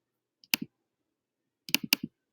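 A computer mouse clicks on a link, giving a single sharp click followed a second later by a quick double click in an otherwise silent room.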